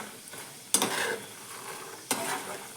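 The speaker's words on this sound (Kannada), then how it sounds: "ಎರಡು ಒಣಮೆಣ್ಸಿಕಾಯಿ ತೊಗೊಂಡಿದ್ದೀನಿ ರೀ ನಾನು. ಅವನನ್ನು ಇದ್ರೊಳಗೆ ಹಾಕಿ ಹುರ್ಕೊಂಬಿಡ್ತೀನಿ ನೋಡ್ರಿ." Two dried red chillies and urad dal fry in hot oil in a pan on a gas stove, with a low steady sizzle and two sharp scraping stirs of a spatula against the pan.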